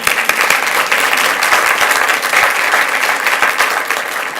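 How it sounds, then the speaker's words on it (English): Audience at a school board meeting applauds students, a loud, continuous wash of clapping from many hands filling the room throughout. "let's give them one more round of applause"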